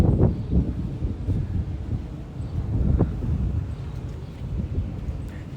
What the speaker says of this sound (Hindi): बहुत प्यारी मस्त हवा चल रही है, ठंडी ठंडी।